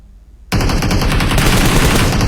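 Rapid gunfire in a video game bursts in after a half-second of near silence, a loud dense stream of automatic shots that continues without pause.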